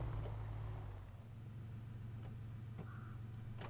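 A Chevrolet CK1500 pickup on off-road tyres in the game SnowRunner, its engine humming in a steady low drone that dips briefly before settling into a constant rumble, with no talk.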